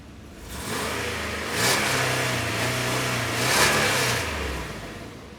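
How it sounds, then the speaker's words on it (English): A 2003 Dodge Dakota pickup engine revs up twice from a rough idle, each rise swelling and falling back, loud and close, with the exhaust sounding raspy from a worn muffler. "you want to rev it on the underside so you can hear it?"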